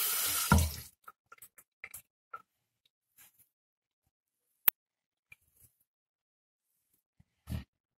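Water splashes loudly in a bathroom sink as a comb is dipped in. The splash is close and brief, followed by a few soft clicks and taps, then near silence and one more short rustle at the end.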